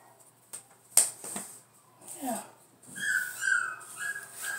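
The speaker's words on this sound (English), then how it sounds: "My puppies. Oh, my babies." Puppies whimper in thin, high, wavering whines that rise toward the end, mixed with soft clicks and breathy household noise.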